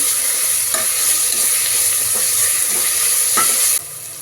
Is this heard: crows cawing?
no